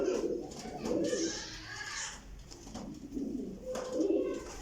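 Pigeons coo in a loft, several soft rolling calls in bursts close by, with golden fancy pigeons being shown and no talk over them.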